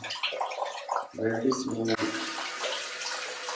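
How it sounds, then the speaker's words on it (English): Water poured over a swollen forehead after a hair transplant, a steady broadband splashing rush that starts abruptly and continues, following a brief moment of close speech. "They told me to dump water on it"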